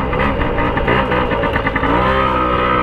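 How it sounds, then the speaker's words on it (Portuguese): A mini motorcycle engine runs loud and close while riding over a speed bump, holding a steady, buzzing drone with slight wobbles in pitch throughout. "a motinha faz barulho"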